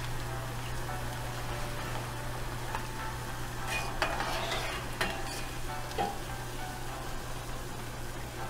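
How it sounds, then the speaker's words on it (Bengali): French fries deep frying in hot oil, a steady dense bubbling sizzle with occasional light clinks and scrapes, a low constant hum underneath. "এইভাবে সবগুলাকে ভেজে নেবেন"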